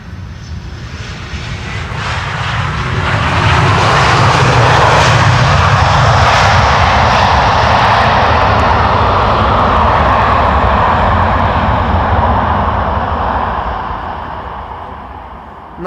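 An airliner landing at Amsterdam Schiphol in sunny, crosswind conditions: the engine roar swells as thrust reversers deploy, holds loud and broad for several seconds, then slowly fades, heard from nearby with no talk.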